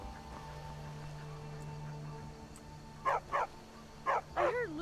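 A dog in the video game Skyrim Special Edition barks several times in short bursts toward the end, over a low steady background hum and faint music-like tones.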